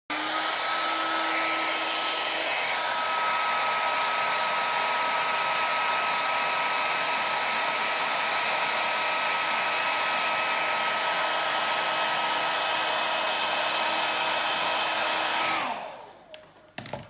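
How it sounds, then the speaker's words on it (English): A hair dryer blows loudly and continuously at close range with a steady airy roar and whine, then switches off near the end. "don't throw your hairdryer on the floor because it will break"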